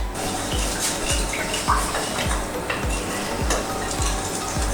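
A very hot wok sizzles and hisses steadily while a utensil stirs and scrapes in regular strokes, close up and fairly loud.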